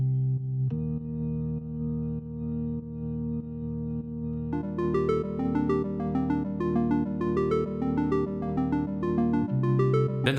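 A Hammond organ-like electric piano keyboard plays sustained chords, then a rippling melodic line enters over them halfway through, steady and clear with no voices.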